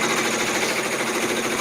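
A multi-needle embroidery machine stitches a quilt block at a fast, even rhythm, its dense mechanical chatter loud and continuous throughout the short stretch.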